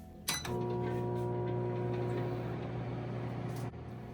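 A microwave oven runs while boiling chickpeas, a steady, faint mechanical hum with a low drone that starts after a short click and stops abruptly near the end.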